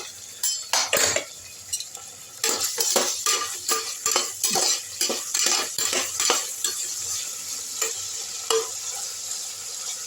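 Okra sautéing in a pressure cooker, with a spoon scraping and clanking against the metal in quick irregular bursts over a soft, continuous sizzle.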